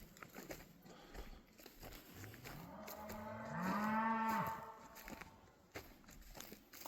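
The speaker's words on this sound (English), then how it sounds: "I tried to get up close to the cows," Cows on a farm lowing: one drawn-out, loud moo rises and falls near the middle, with soft shuffling and rustling around it and no talking.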